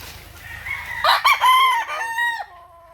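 A Gilmore or Boston gamefowl rooster on a game farm in Agusan del Sur gives one loud, close crow that rises and then trails off, with a faint rhythmic hum in the background.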